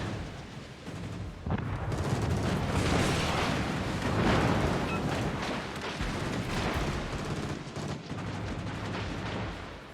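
Naval gunfire in World of Warships, heavy booming salvos and rolling explosions that overlap continuously, loud and dense throughout, with no talking.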